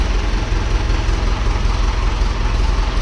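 Heavy, low engine chugging steadily nearby, the even throb of a tractor idling without any other sounds.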